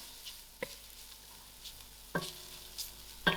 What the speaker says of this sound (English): Give this a few seconds to just fry out